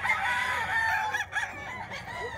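Among chickens offered for sale, a rooster lets out a long, fairly faint crow with a wavering, stretched tone and brief dips, heard against a quiet background.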